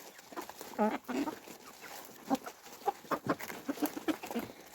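Three-month-old chickens cluck softly while pecking at a cabbage, a scatter of short, close calls and scratchy pecks over a quiet background.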